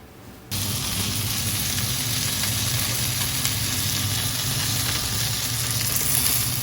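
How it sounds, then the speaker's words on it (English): Salmon fillet sizzles steadily on oven paper in a frying pan, a dense continuous frying hiss starting abruptly after a brief quiet moment and holding at even loudness with no talk. "Grill the salmon."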